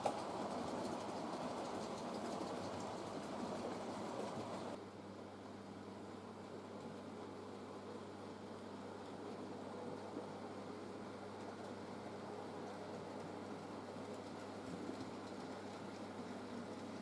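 A model railway train, with an A1 locomotive on the Up West Riding, rumbles steadily past on a layout, a soft continuous rolling hum that drops slightly in level partway through.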